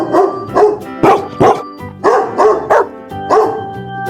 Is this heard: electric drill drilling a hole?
no